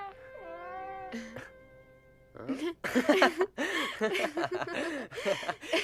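A cartoon cat lets out a long, wavering meow, then a short cry, followed by animated voices talking and chuckling over it.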